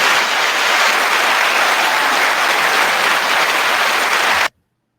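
Dense, loud applause filling the space for about four and a half seconds as a small fanfare, then cutting off abruptly into silence.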